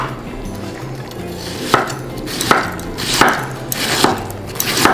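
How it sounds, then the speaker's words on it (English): Knife chopping cabbage and herbs on a cutting board, with sharp, irregular taps that strengthen into a fairly steady rhythm of close, distinct strikes over a low background hum. "I'm gonna slice my cabbage and herbs."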